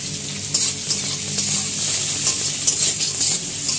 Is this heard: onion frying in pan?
yes